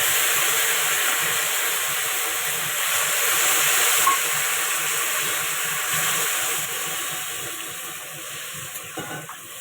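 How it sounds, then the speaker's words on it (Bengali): Water hitting a hot pan of cooked-down jackfruit curry raises a loud, continuous steamy hiss and sizzle that stays close and steady, easing slightly toward the end. "এবার আমি জল ঢেলে দেবো।"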